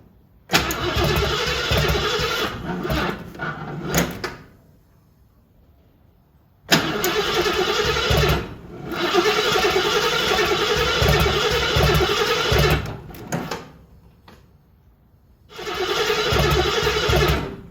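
A 1974 AMC Javelin engine cranks and catches in three loud, close bursts, each running for a few seconds with steady mechanical roar, separated by quiet pauses, with no talk over it.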